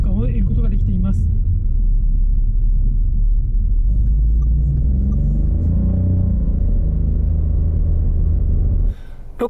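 A Daihatsu Rocky, a compact SUV with torque sent to the rear wheels, drives and accelerates on an ordinary road at normal speed. The engine rumbles low and steady, and road noise builds. Someone talks over it throughout.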